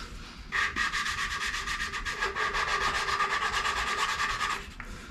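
A steady, gritty back-and-forth grinding rasp of valve lapping on a Flathead Ford V8, close up and continuous for several seconds, starting and stopping abruptly.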